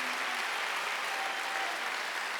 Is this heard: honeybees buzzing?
no